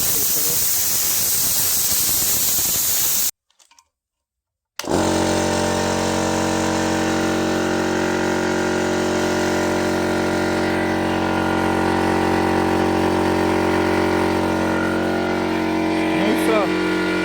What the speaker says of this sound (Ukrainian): компресор запустив, включив, він вже накачав